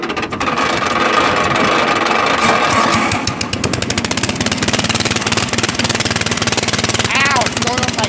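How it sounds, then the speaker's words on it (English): A truck engine starts up and runs loudly and steadily for several seconds, with a rough mechanical rattle throughout and a bright hiss in the opening seconds. "I am going to start my motor up."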